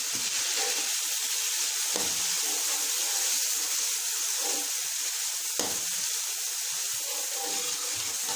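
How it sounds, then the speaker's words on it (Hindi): Garlic and ginger paste fries in a pan with a loud, continuous wet sizzle and hiss, broken by a couple of stirring scrapes; no voices. "लहसुन और अदरक का पेस्ट डाल देंगे। भून लेना है इसे अच्छे से।"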